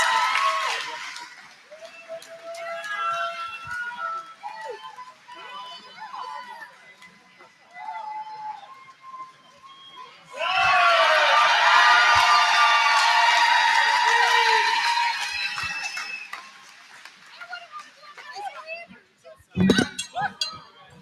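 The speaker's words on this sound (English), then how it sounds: "I think that deserves a round of applause." Crowd cheering and clapping at an outdoor World's Toughest Mudder 2024 awards ceremony, swelling into a loud, dense burst for several seconds midway, with announcer talk and scattered chatter before and after.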